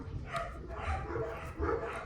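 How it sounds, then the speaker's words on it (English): Dogs bark excitedly in a run of repeated yips and woofs, fairly close and steady, with no talk over them. "And the dogs are excitedly barking their"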